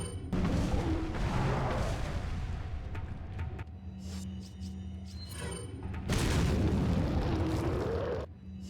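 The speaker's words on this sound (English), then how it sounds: "And then you're gonna want to use a grenade here." Grenade blasts in Resident Evil 4, two heavy booms with rumbling tails separated by quieter game sounds, loud and close.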